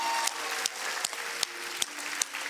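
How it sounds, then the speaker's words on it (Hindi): Audience applause for a young singer named Vaishnavi on a Hindi kids' TV singing show: dense, steady clapping with a few sharper accents, sustained throughout without talk. "जोरदार तालियां हो जाए वैष्णवी के लिए यार"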